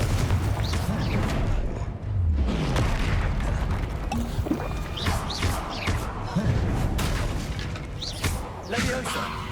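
Repeated Confringo fire blast spells in the Hogwarts Legacy video game, sounding as loud booming thumps and whooshing bursts in quick succession amid continuous battle noise, spell clatter and scattered effects.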